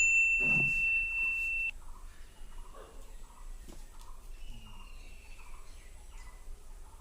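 A mobile phone dialing for a call gives a steady electronic tone lasting about a second and a half, followed by a run of faint, evenly spaced chirping beeps over a quiet room.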